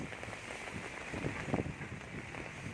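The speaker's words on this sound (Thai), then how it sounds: "หน้าเวลานี้ฝนตกค่อนข้างหนักนะครับ" Heavy rain falls beside the flooded Rangsit canal in Thailand, a dense, steady hiss of drops with no let-up, close and fairly loud throughout.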